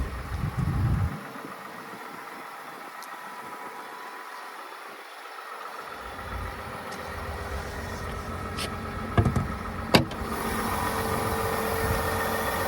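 A 3.0-litre Duramax diesel engine in a 2023 Chevrolet Silverado 1500 idles with a low, steady rumble, joined by a couple of brief metallic clicks and knocks near the end.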